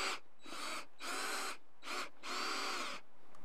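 A power drill driving screws into a wooden 4x4 for a Swedish torch, running in several short whirring bursts with brief pauses, close and steady in pitch.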